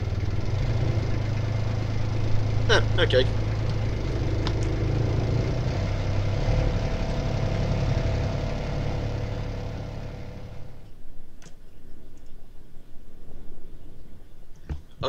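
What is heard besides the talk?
boat engine starting and idling in a video game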